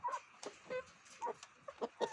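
Hens cluck in short, scattered bursts close by, several birds overlapping in a quiet setting.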